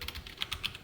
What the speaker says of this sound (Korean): 여기다가 홍길동이라고 써줄게요